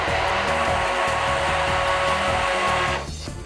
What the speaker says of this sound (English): Now we're just going to puree this.